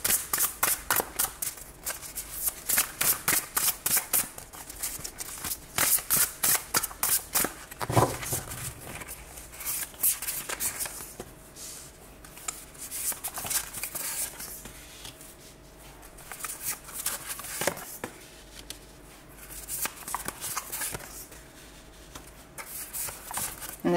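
Tarot cards being shuffled by hand, rapid riffling bursts in rhythmic clusters, close and soft, alternating with quieter stretches of sliding and tapping cards, with no speech.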